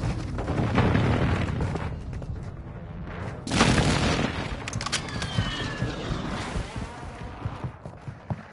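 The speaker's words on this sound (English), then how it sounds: "Airstrike inbound." Airstrike explosions in a video game hardpoint match, heavy booming blasts rolling over continuous battle noise, with a strong burst near the middle and ongoing rumble and crackle throughout.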